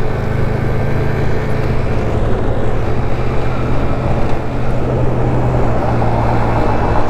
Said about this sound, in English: Let me get out of this truck's way, guys.